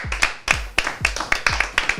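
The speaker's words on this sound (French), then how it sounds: "On applaudit encore pour elle, s'il vous plaît." Audience applauding at a makeup competition show, a few people clapping close by in quick uneven bursts.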